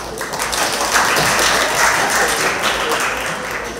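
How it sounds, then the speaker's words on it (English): An audience at a junior calypso finals claps for the judges, a loud, dense round of applause from a crowd that holds steady throughout without fading. "give the judges a round of applause"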